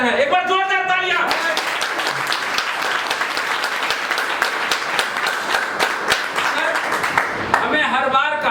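Loud, sustained applause fills a leaders' meeting hall, a thick wash of many hands clapping for about six seconds, framed by someone speaking briefly before and after.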